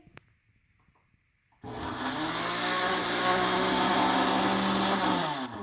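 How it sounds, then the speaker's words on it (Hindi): A blender whirs loudly and steadily, blending spinach paste for palak paneer, for several seconds after a brief quiet start, its motor holding an even, grinding drone. "अब हम इसको ब्लेंड करेंगे।"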